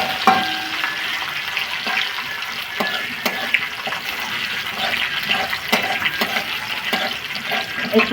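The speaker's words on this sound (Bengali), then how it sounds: "এই কাজু কিশমিশটা একটু ভেজে নেব" Cashews and raisins frying in oil, giving a loud, busy crackling sizzle throughout, with scattered pops and utensil knocks.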